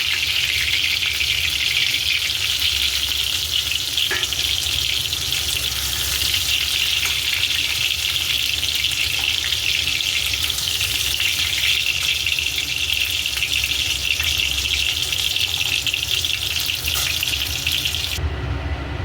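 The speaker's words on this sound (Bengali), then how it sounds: "পটলগুলো আমার ভাজা হয়ে গেছে এই অবস্থায় আমি তুলে নেবো এর বেশি আর ভাজবো না" Pieces of pointed gourd (potol) fry in oil, giving a loud, steady, hissing sizzle that runs unbroken for nearly twenty seconds before cutting off.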